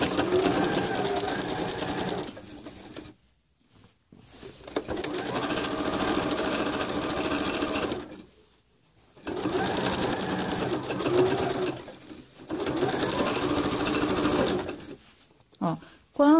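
Domestic sewing machine stitching a seam in bias binding, running in three long steady whirring bursts separated by brief pauses, close and loud with faint rustling of fabric between runs.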